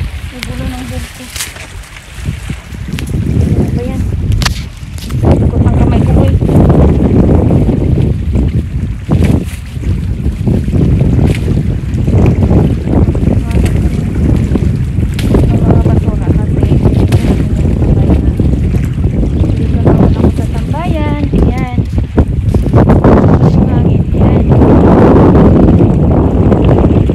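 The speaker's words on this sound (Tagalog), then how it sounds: "malakas yung hangin" Loud, continuous strong wind on a beach roars against the microphone in heavy gusts, with faint voices speaking underneath.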